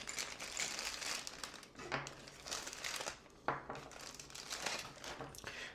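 Plastic bag rustling and crinkling as hinge jig guides are taken out for a Milescraft 1226 hinge jig, close continuous crinkles with a couple of sharper rustles and no talking.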